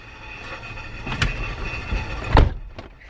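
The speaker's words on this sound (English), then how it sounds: "do you hear this Suburban?" Rumble of a Suburban SUV's engine and road noise heard from inside, a low steady drone with a few louder whooshing swells, no talking.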